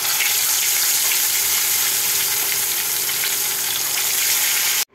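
Pieces of rui fish frying in hot oil in a wok, a loud, dense, continuous sizzle and crackle held steady close up for about five seconds before cutting off abruptly.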